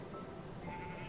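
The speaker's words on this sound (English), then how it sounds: "Oh, sheep." A sheep in a Minecraft-style video game bleats in one faint, sustained wavering call over a constant background hiss.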